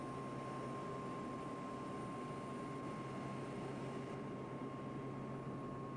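Steady, loud drone of a PC-9/A turboprop engine at reduced power during a flight circuit's base turn, a continuous broadband roar with a fixed whine running unbroken throughout.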